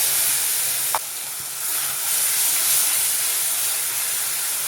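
Cumin, ginger and garlic sizzle in hot ghee as a dense, steady hiss close by, with one sharp click near the start and faint stirring underneath.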